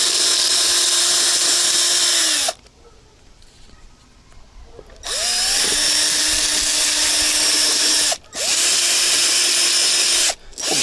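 Power drill fitted with a homemade scaling attachment, stripping scales from perch: a loud, steady whirring drone that cuts out for a few seconds midway, then resumes with two brief pauses.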